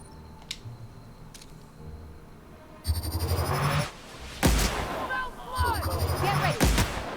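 Plasma rifle fire in The Outer Worlds video game: several loud, close energy-weapon shots with sizzling zaps and trailing whines, coming in short bursts after a quieter stretch with faint ticks, mixed with game ambience.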